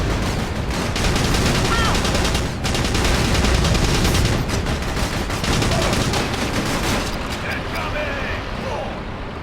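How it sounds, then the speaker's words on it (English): Heavy, continuous gunfire and mechanical clatter fill a war video game battle, with dense overlapping shots and faint voices blended into the loud, steady din. "Objective spotted. They're shooting at the commander."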